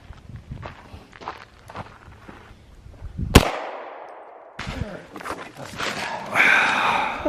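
A 9mm round is fired at a bowling ball outdoors: one sharp, loud gunshot crack mid-clip with a ringing decay, set between stretches of quieter handling noise and voices.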